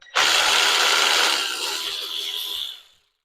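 A Ryobi battery-powered ratchet whirs in one burst of about three seconds during a 1985 Camaro teardown, close and loud at first, then easing slightly before stopping abruptly.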